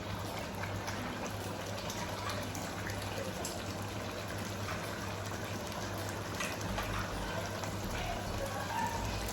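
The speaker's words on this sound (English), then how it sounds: "So while this is frying" Nigerian tomato stew frying in a pan, a steady close sizzle and bubbling crackle that runs on without pause, with no talking over it.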